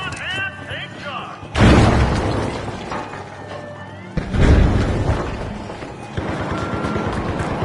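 A frag grenade detonates in the competitive shooter The Finals, a loud booming blast with shattering debris, followed by a second heavy explosion amid ongoing gunfire and an energetic commentator talking throughout.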